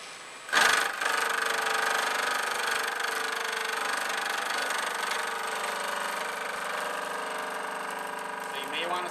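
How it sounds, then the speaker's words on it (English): A milling machine squaring a block starts with a sharp burst, then settles into a steady, loud grinding drone with high tonal whine as it takes a fifty-thousandths cut, continuing unbroken to the end. "Go ahead and turn the machine back on. And take this 50 thousandths cut."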